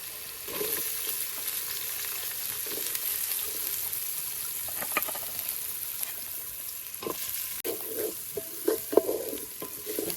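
Chunks of raw jackfruit roasting and being stirred in a hot pan, with steady close sizzling and frying under scattered scraping and clinking of the spoon against the pan.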